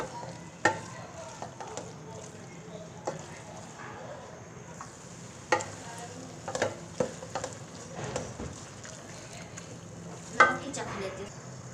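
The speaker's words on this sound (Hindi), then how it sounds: "मैंने इसमें सारे अंडे डाल दिए हैं और इसको थोड़ा सा भून लूँगी" Eggs and potatoes fry together in a pan for an egg and potato bhujia, with a steady close sizzle broken by repeated scraping and knocking from stirring.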